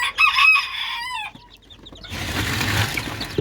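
Chickens crow and cluck up close, followed by a busy patch of cheeping chicks and scratching noise.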